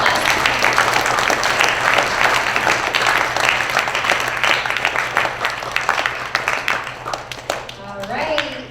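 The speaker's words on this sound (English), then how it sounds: "Let's give Luzbin a nice round of applause." Audience at a school Student of the Month assembly claps in a sustained round of applause that thins toward the end, where a voice begins speaking over a low hum.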